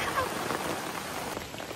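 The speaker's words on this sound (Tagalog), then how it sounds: "bumuhos naman napakalakas na ulan" Heavy rain pours steadily and loudly close by during car camping on a farm, a dense, unbroken hiss of drops drumming on surfaces throughout.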